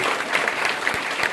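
Applause from an audience at a church life-group gathering, a steady wash of clapping filling the room at moderate loudness for a brief moment, with no speech over it.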